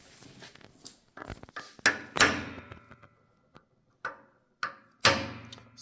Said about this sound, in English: It's just a blunt chisel.